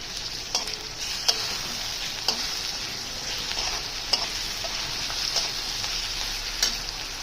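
Ginger garlic paste sizzles and fries steadily in a pan for an egg curry, with a continuous close hiss broken by occasional sharp crackles and stirring clicks, no talk.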